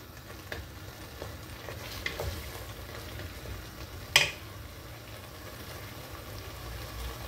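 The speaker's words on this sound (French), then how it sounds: "on laisse encore mijoter 5 minutes, que ce soit bien imprégné, la viande et compagnie." Meat and tomato curry simmering in a pan for an Indian dish gives a low, steady bubbling sizzle throughout, with a few faint taps and one brief sharp clink midway.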